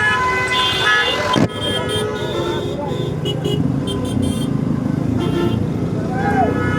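Road traffic in a jam on the way out of Dhaka, with a sharp car horn toot up close, further honks from surrounding vehicles and a steady engine rumble, while someone talks over it.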